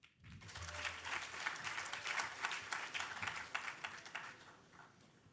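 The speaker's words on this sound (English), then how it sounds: "So let's give a massive round of applause to Framed." Applause from the audience at a hackathon closing ceremony in New York, with many distinct claps swelling quickly and holding steady, heard from a moderate distance with no talking.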